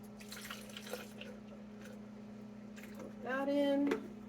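Cold brew coffee is poured into a shaker with a snap-on lid, giving a short gurgling trickle near the end, preceded by faint handling noises and a steady background hum.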